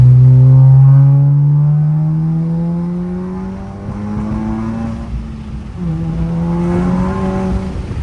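A turbocharged European car revs hard at a car show, its engine rising in pitch through a quick downshift, then a second climbing rev, loud and close, with no talk.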